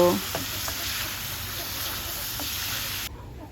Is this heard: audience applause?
no